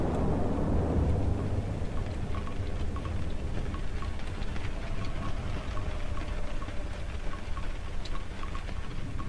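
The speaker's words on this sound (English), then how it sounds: "The rain kind of sounds like footsteps, that pitter-patter." Steady rain pours down throughout in the horror video game Cry of Fear, a dense continuous hiss with faint repeating ticks like pattering drops, with no talking.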